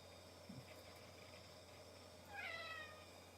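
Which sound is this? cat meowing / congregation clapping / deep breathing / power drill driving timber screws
cat meowing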